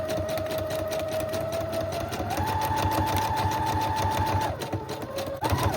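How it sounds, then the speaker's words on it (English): A sewing machine stitches a fabric pocket and die-cut pieces onto a junk journal page, producing a rapid, steady mechanical whir with a humming motor tone that shifts pitch slightly, close up and continuous until it stops near the end. "I will just sew the pocket shut on the 2 open sides, leaving the top open"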